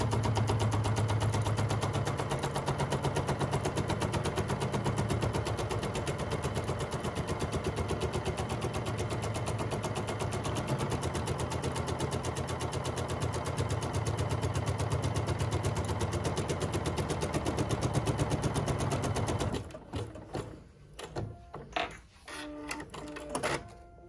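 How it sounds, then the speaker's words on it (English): A bernette 79 embroidery machine stitching the perimeter of a fabric bib in the hoop, a steady rapid mechanical rattle running loud and even for about twenty seconds before slowing into a few irregular clicks and stopping. "now it's stitching the perimeter of my bib"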